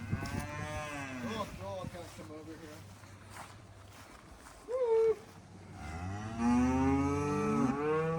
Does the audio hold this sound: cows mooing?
yes